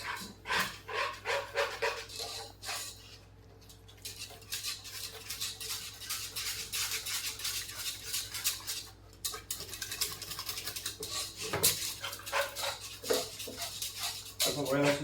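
Close, busy scraping and clinking of a whisk working creamy, milky mashed potatoes in a pot, fast irregular strokes that keep going throughout, with a voice speaking now and then.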